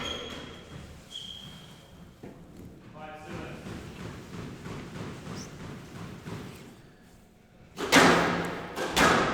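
Squash ball struck during a league match, landing as dull thuds and slaps under steady commentary, with a louder burst of hits near the end.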